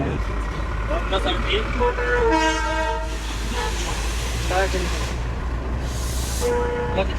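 Darjeeling Toy Train running uphill through clouds, continuous low rumble with two bursts of a bright, harmonic horn toot, plus squealing tones and some talking over the train noise.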